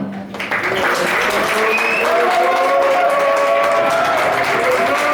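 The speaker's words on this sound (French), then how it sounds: "commencez par un applaudissement pour vous déjà" Sustained audience applause at a rap release party in Mulhouse, dense and loud clapping with cheers and voices swelling over several seconds.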